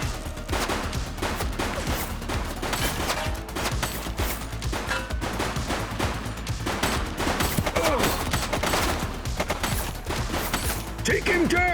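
Dense gunfire from the video game The Precinct, rapid overlapping shots and mechanical clatter in a continuous loud barrage, with brief voices mixed in.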